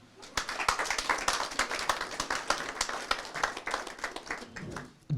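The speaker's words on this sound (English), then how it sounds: "we wants to give her a round of applause." An audience gives a round of applause for a girl at a foundation event, a dense run of sharp hand claps lasting about five seconds at moderate level before it cuts off.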